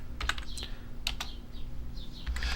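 A handful of quick, crisp keystrokes tap on a computer keyboard close by, irregular and fairly soft, with no talking over them.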